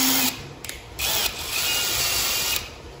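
A power drill tightens a screw while an air conditioner is mounted, whining loudly in several bursts with brief stops between them, close by and with no talking.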